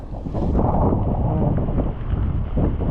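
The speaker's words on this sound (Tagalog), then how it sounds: "mayroon pang malakas na hangin" Strong typhoon-like wind buffets the microphone with a heavy, constant rumbling roar, gusting throughout.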